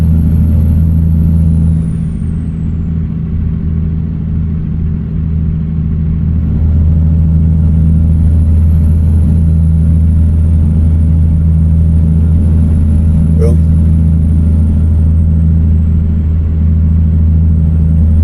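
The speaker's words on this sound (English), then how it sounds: "Listen to this great sounding engine." A truck engine in American Truck Simulator hauling a gravel load drones steadily at a low, even pitch, a continuous close rumble with a faint high whine riding above it.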